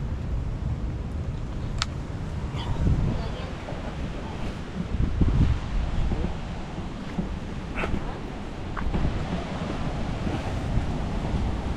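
Rough ocean surf with waves surging and breaking amid gusting wind buffeting the microphone, with a few sharp knocks and faint distant barks.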